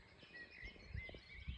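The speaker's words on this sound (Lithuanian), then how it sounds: "Paukščiukai čiulba." Birds chirping faintly outdoors at an early-morning parking lot before a long hike, thin high calls over quiet background with a few soft low thumps.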